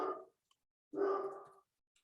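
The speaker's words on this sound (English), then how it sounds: "Sorry if you can hear my dogs." A dog gives two short, muffled barks from a nearby room, separated by a brief silence, fairly faint and alone.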